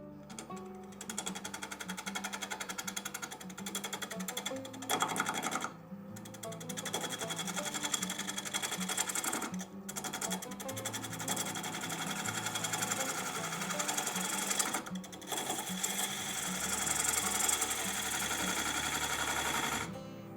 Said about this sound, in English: we'll get back on the lathe